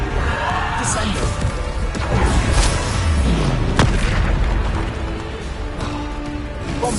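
In the Hogwarts Legacy video game, Bombarda explosion spells go off amid a loud, dense mix of booms, crashes and battle effects, with a voice calling out during the continuous combat din.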